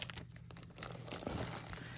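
A plastic bag holding fiber fill for crochet dolls is handled up close, giving continuous loud crinkling and rustling with a sharper crunch partway through.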